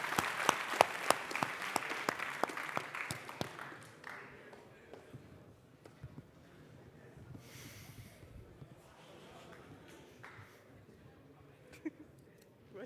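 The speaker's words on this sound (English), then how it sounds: "And maybe a final round of applause for the second round." Applause from the audience at the grand finale of a physicists' tournament, a burst of many clapping hands that is loud for about four seconds, then thins to scattered claps and a quieter murmuring room.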